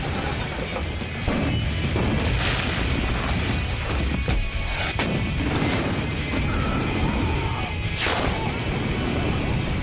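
A bomb range explosion erupts as a dense, continuous roar of broadband blast noise with scattered debris, crackles and sharp impacts, staying loud and unbroken for nearly ten seconds.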